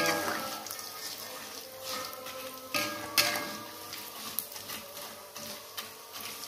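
Salted fish frying in a pan for a sayur lodeh meal, with a steady hiss of oil broken by scraping and stirring knocks and a few clinks of utensil against pan, close and without talk.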